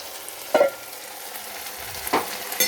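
Vegetables frying in a pan after the lid is lifted, a faint steady sizzle with a few brief scraping stirs spaced apart, close and without speech.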